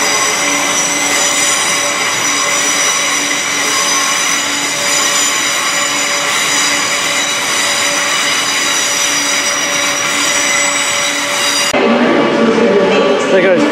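A Class 350 electric passenger train pulls into a station terminating from London Euston or Northampton, with a loud steady motor whine and rail rumble that cuts off abruptly near the end.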